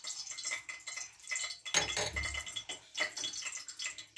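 A spoon stirs soy sauce, vinegar, chilli sauce, salt and water in a small bowl, giving quick repeated clinks and scrapes against the dish with one louder knock midway, close and alone.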